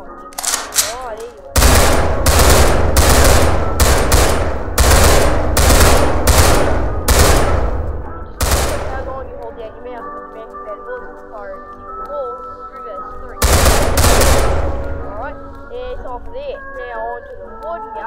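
The Fusel assault rifle firing in a post-apocalyptic shooter video game: loud bursts of rapid automatic gunfire, several volleys separated by short pauses, with a tonal game sound ringing underneath between bursts.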